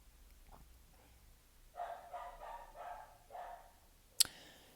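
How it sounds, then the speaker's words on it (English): A dog barks several times in quick succession at a moderate distance, indoors with a quiet background, followed by a single sharp click or yip. "Pardon my barking dog."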